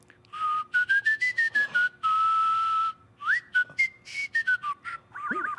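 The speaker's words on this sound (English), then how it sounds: "But I whistle with my tongue, no lips." A person whistles with the tongue alone, no lips, producing a clear melodic tune of sliding and held pitches in short phrases, close and prominent with no talking.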